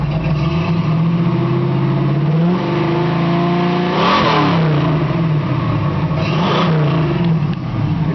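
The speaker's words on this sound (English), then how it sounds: "It's got a really nice sounding Flowmaster exhaust." A 1970 Camaro SS V8 engine revs up through a deep Flowmaster exhaust rumble, climbing and falling in pitch several times, loud and close with no talking.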